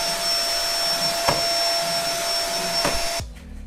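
A small toy vacuum cleaner whirs with a steady, continuous motor drone and a couple of brief bumps, then cuts off abruptly near the end.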